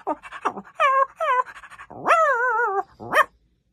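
A voice actor imitates a cartoon dog from Mighty Raju with a quick string of barks, yips and whiny howls, loud and close, each call rising and wavering in pitch between short pauses.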